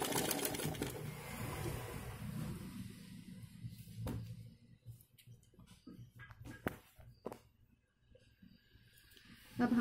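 A sewing machine stitches along the edge of a blouse, whirring steadily at first, then settling into sparse clicks and short bursts, fairly quiet.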